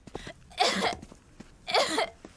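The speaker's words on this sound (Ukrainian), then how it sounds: "Погуляв з друзями і почав кашляти" Two harsh, explosive coughs, close and fairly quiet, separated by a brief pause.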